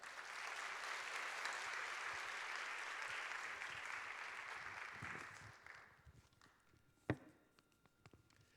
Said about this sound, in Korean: 우리 목사님 가운데 큰 박수로 모시도록 하겠습니다.